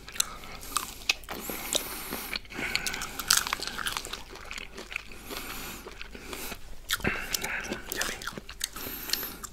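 Close, crisp bites and wet chewing of a shrimp cocktail ring come in irregular bursts, with short quiet gaps between mouthfuls.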